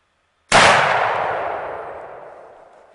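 One loud rifle shot cracks out during a hunt, then a long rolling echo slowly fades across open ground, with no voices.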